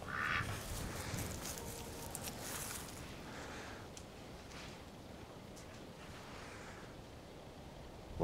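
Several ducks quack and squabble nearby at first during a standoff with a Maltese dog, then settle into softer scattered calls over a steady outdoor background.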